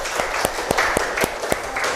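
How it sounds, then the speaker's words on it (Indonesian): Students applauding in a classroom during a lesson on liquid pressure, a string of distinct, evenly spaced claps with a steady patter of lighter clapping underneath, fairly close, with no talk. "tepuk tangan untuk kita semua."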